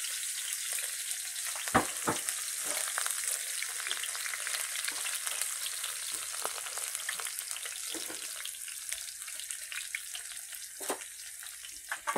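Scallions crackle and sizzle steadily in oil in a frying pan, with occasional sharper pops and stirring scrapes throughout, no voices.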